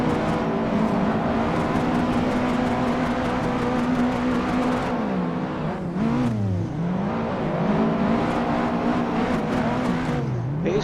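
A car drifting in the racing video game Assetto Corsa makes a loud, sustained engine roar with a steady high rev. The pitch dips and swoops repeatedly as the throttle is lifted and pressed again through the slides.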